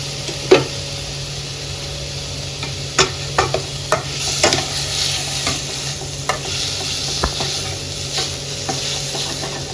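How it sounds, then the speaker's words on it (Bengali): Minced chicken stirred in a frying pan: a spatula scrapes and clacks against the pan in irregular strokes over a steady low sizzle, close and unaccompanied by talk. "আমাদের মিন্সড চিকেনটা সবার সাথে একটু মিক্স করে নেবো"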